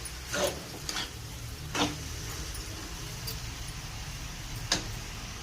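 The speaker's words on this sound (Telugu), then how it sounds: "గోకరకాయ తాలింపు పచ్చిమిర్చి నువ్వులు వేసి చేయండి" Cluster beans tempered with green chilies and sesame seeds sizzle steadily in hot oil, with a few sharp stirring clinks against the pan and no talking.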